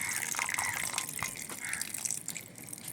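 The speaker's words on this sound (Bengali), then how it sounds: "এবারে আমি কেওড়াতে দেখুন জল দিয়ে দিচ্ছি" Water poured over boiled keora (mangrove apple) fruit in a pot, a steady close splashing and trickling with a few small drips, with no talk over it.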